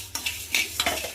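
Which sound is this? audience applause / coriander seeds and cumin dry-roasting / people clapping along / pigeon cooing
coriander seeds and cumin dry-roasting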